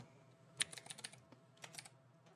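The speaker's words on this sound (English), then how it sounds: "we're going to type Halo Infinite" Soft, quick keystrokes patter on a computer keyboard in two short bursts, close and faint, with one slightly sharper tap near the start.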